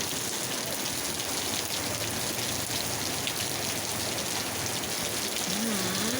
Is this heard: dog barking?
no